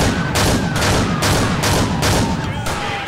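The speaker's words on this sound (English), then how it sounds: "Shotgun finisher." Rapid shotgun blasts in the GTA IV police mod LCPDFR, five or six loud booming shots in quick succession, each with a sharp crack and short decay, filling the moment with no talk over them.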